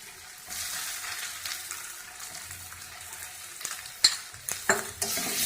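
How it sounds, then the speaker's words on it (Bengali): Ash gourd fries with mustard paste in a pan, a soft steady sizzle close by, broken near the end by several sharp scraping and clattering stirs of a utensil against the pan. "এবার এটাকে ভালো করে ভেজে"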